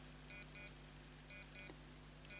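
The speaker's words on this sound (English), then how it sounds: "if you're wondering how loud the alarm is, well, you can do a little test" A Casio F-91W digital watch alarm beeps in shrill, high-pitched double pips, with three pairs repeating at a steady rhythm, close and clear over a faint hum.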